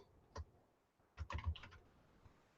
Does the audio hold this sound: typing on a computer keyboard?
yes